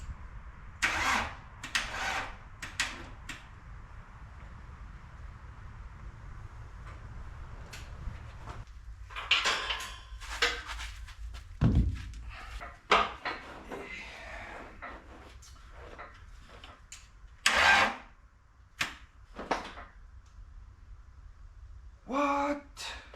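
A homemade mini loader built from car parts and scrap metal, running without its alternator on a weak battery, cranks in several short bursts with pauses between, close by, and a brief low thump midway.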